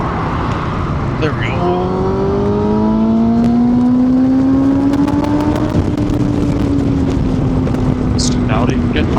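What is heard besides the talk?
Kawasaki ZX10R motorcycle accelerating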